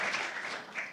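Brief burst of audience applause, a steady dense patter of clapping with no pauses, moderately loud, no voices.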